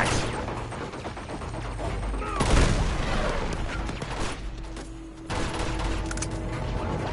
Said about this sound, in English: Oh, it's a machine gunner.